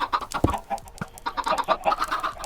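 Minecraft chickens on a poultry farm cluck in quick, soft bursts, several short calls overlapping at close range with no talking.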